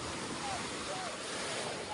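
Ocean waves and surf around a fishing net being hauled in, a constant broad wash of water and wind noise filling the scene.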